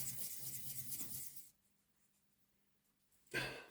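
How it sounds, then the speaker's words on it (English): Metal parts being filed by hand during a gear and bearing rebuild: two bursts of steady rasping strokes, a longer run of about 1.5 seconds, then a short gap of near silence before a second burst. Close and moderately loud. "Just give them a wee file."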